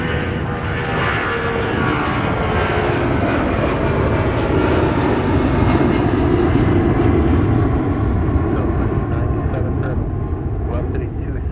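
An airliner takes off from runway 30 left at Minneapolis–St. Paul airport, its engines roaring loud and steady throughout with no breaks.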